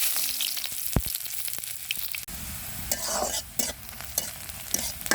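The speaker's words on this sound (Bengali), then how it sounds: "কড়াই তেল দিয়ে দিছি, এখন পেঁয়াজ কুচি দিয়ে দিব ডালটা রান্নার জন্য।" Chopped onions fry in oil in a wok for chana dal, giving a steady close sizzle with scattered clicks and scrapes of stirring throughout and no talking.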